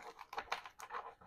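Lorcana playing cards are shuffled by hand, producing quiet, uneven bursts of papery flicking and riffling in quick succession, close by and with no talking.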